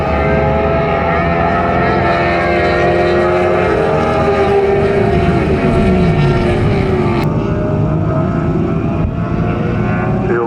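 F1 and F2 racing sidecars roar around Pembrey Circuit, several engines blaring loudly and continuously with rising and falling pitch as machines pass close by, with faint commentary underneath.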